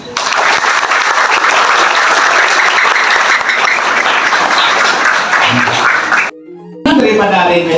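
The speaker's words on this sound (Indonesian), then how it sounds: "Tepuk tangan yang lebih keras" Loud, dense applause from an audience at a Balinese Hindu dharma talk fills the room for about six seconds, then breaks off abruptly before a voice resumes speaking.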